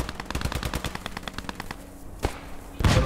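Bursts of machine-gun fire in the World War II shooter Squad 44, a steady run of rapid shots up close, then a lull with a lone report and a louder blast at the end.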